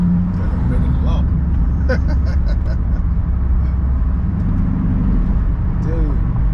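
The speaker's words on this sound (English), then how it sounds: "this is a review of driving my 300 in the city" A lowered Chrysler 300 on coilovers drives through city streets in DC, giving a loud, constant low engine and road rumble with a voice speaking over it at times.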